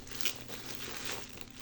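The plastic bag around a NOYEN 16mm pickleball paddle gives a continuous close crinkle and rustle of thin plastic being opened, with no talking.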